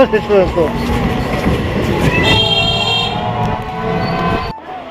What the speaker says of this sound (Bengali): আর চার মিনিট পরে কিন্তু ট্রেনটা ছাড়বে